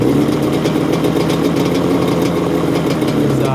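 A Yamaha Banshee ATV engine idles steadily and loudly up close after a cold start, a continuous low rumble with an even, throbbing rhythm.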